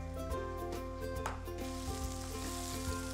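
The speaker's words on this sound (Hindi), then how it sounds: "सिंपल सा तड़का बना रहे हैं हम।" Spices sizzle and crackle in hot oil for a tadka in a Pakistani dum pukht dish, a steady frying hiss with occasional soft clinks, close up and without any talking.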